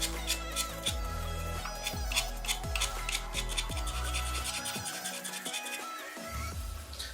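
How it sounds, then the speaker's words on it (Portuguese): A utility knife blade shaves the graphite tip of a colored pencil, giving a steady run of short, close scraping strokes in a regular rhythm, each with a small tick. A brief hush falls near the end before scraping resumes. No one speaks. "o estilete aqui no grafite. E você vai afinando até conseguir uma ponta bem fininha"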